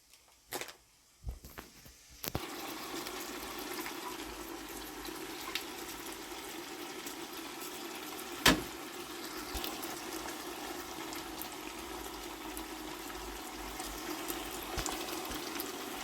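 Water poured into a couscous pot with zucchini, chickpeas and raisins, a steady close stream filling the pot for a long stretch after a few initial clunks, with no talk.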